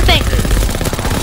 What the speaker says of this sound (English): I can just shoot! Do you hear my bullets?